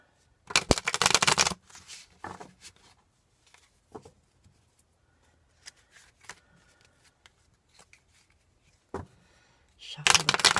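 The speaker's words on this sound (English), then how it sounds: "Shuffle the cards." A tarot deck is shuffled in crisp riffling bursts at the start and end, with scattered soft card taps and slides in the quiet gap between.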